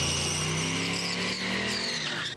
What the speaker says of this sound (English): Motors running.